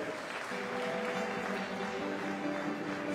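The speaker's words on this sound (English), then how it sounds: "Ladies and gentlemen, a round of applause for your medal winners." Sustained applause for medal winners at the 2015 IPC Swimming World Championships in Glasgow, a moderately distant, even wash of clapping from a large arena crowd.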